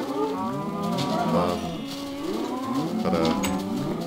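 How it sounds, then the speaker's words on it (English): Cows in the Minecraft video game moo over and over. Several long, drawn-out lows overlap continuously, and they are loud and close. "Tiny cows, get out of my way!"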